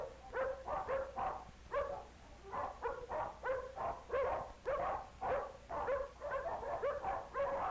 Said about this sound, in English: It sounds as though there are many dogs nearby.